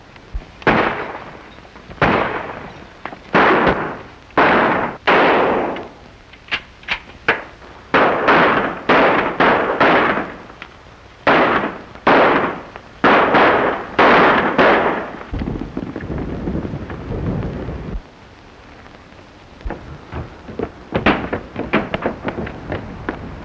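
Rapid gunfire from an old black-and-white western shootout, with a dense string of sharp, loud shots in uneven bursts that thins to sparse pops and background noise near the end.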